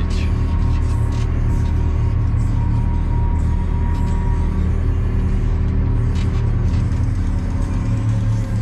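Farm vehicle hauling silage on a rough, potholed road gives a steady, loud low rumble of engine and chassis throughout, with faint rattles and knocks.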